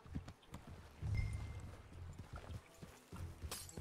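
Horse hooves on the ground in Red Dead Redemption 2: a steady, rhythmic clip-clop of fairly close hoofbeats continues throughout at moderate loudness, with no clear speech.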